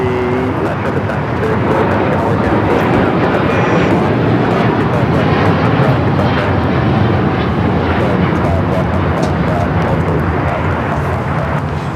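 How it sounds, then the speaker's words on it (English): A Boeing 787-9 Dreamliner taking off at LAX, heard as a loud, steady, broadband jet roar that holds at full strength throughout, with no voices over it. "This is LL Flight 6 taking off to Tel Aviv on the 787-9 Dreamliner"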